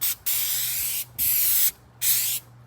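An aerosol spray can hisses in a garage while hood insulation is being replaced on a BMW E28, three close bursts of roughly half a second to a second each, separated by short pauses.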